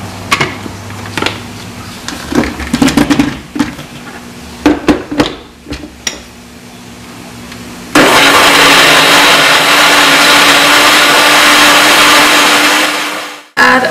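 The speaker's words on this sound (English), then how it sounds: "add some until I see it in the blender" Countertop blender pureeing a vegan casserole sauce with plant milk, starting with a few short clattering pulses before settling into a loud, steady whirring run that cuts off abruptly.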